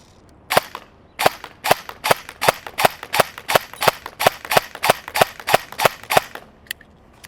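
An EMG Sharps Bros airsoft AEG rifle fires BBs in a quick string of about fifteen sharp, snappy shots at an even pace, close and crisp, then stops.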